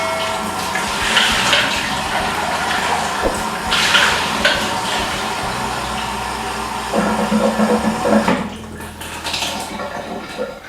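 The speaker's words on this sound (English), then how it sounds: "So I'm going to wash that under the tap 3 or 4 times there" Tap water runs steadily into and over a coffee machine's water tank as it is rinsed, a continuous loud splashing with shifts in tone as the tank is moved and filled.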